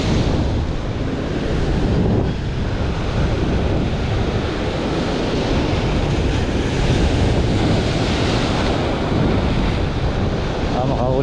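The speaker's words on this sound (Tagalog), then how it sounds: "Lakas ng alon." Strong ocean surf roars continuously and loudly, with waves crashing in a dense wash of water noise and heavy wind buffeting the microphone at sea.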